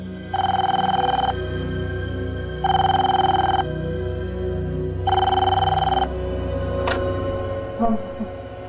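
A telephone bell rings three times in long, evenly spaced bursts, loud and close, with a faint hum and brief clicks between rings.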